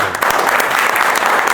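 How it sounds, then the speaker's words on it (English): Steady clapping from an audience, a dense wash of many hands applauding together, loud and continuous throughout. "A big round of applause for him."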